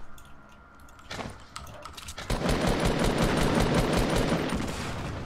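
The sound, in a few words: gunshots in the video game Fortnite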